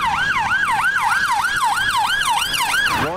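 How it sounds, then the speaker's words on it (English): A loud, close police car siren wails in fast, regular rising-and-falling sweeps, repeating steadily with no voices. "You got sirens on as well."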